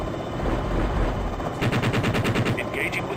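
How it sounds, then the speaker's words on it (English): Helicopter cannon fire in the combat flight game Jane's Longbow: a steady rumbling drone, then a rapid burst of repeated cannon shots partway through that continues to the end over the engine noise. "Engaging with cannon."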